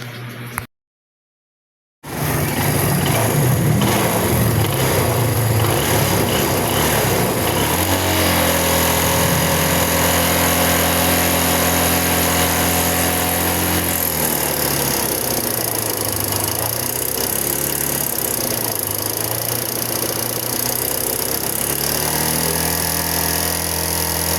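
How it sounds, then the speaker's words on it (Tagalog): A Kawasaki Barako 2 motorcycle engine, running hot and noisy, runs steadily and loudly for over twenty seconds, with a rough, clattering mechanical drone and no talking, after a brief silent gap at the start. "ipaparinig ko muna sa inyo yung tunog ng makina kapag ka mainit na siya"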